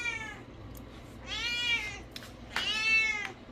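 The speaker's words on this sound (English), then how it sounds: "my cat's going crazy" A house cat meows loudly and insistently indoors, three drawn-out calls spaced about a second apart, the later two longer and rising, over a quiet room hum.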